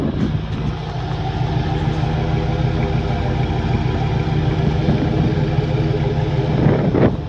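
A Ford F-150 pickup with a custom exhaust idles with a steady, deep rumble throughout, rising briefly near the end as the throttle is blipped.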